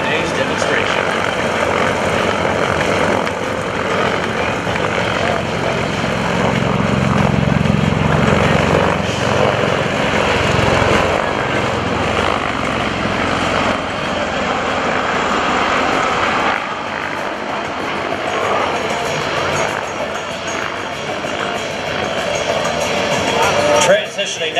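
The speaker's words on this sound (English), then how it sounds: "the MV-22 Osprey is accelerating to its maximum speed" Loud, continuous roar of an MV-22 Osprey tiltrotor aircraft accelerating in forward flight at an airshow, engine drone swelling and easing over the whole stretch.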